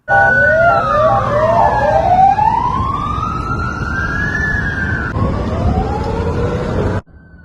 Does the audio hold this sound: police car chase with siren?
yes